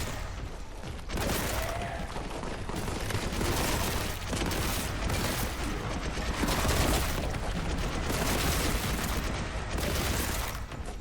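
Bolt gun firing in Warhammer 40K: Boltgun, a dense continuous barrage of loud shots and booms running almost the whole time after a brief quieter opening, with no speech.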